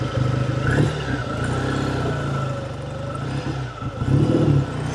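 A 1948 Triumph T100 Tiger motorcycle with a 500cc twin engine runs close by, its steady throbbing idle and revs rising and falling throughout, with no speech.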